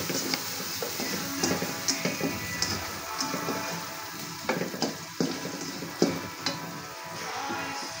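Onion and garlic fry in Star margarine in a home kitchen, giving a steady low sizzle with scattered sharp crackles and spatters, heard close with no talking.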